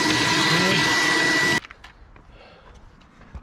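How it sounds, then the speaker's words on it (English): A Dyson vacuum cleaner roars loudly and steadily while hoovering pine needles and debris from a 2016 Peugeot Boxer, then cuts off abruptly, leaving faint clicks and handling noises. "It's worth hoovering those out. My trusty Dyson."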